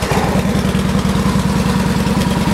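A Victory 8 Ball Hammer motorcycle with an upgraded aftermarket exhaust idles up close, a loud, steady low-pitched rhythmic burble that holds even throughout with no talking.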